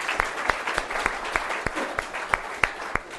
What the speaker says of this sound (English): So I think we ought to give a big clap for Dr.